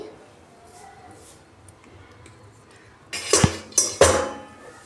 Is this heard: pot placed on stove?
yes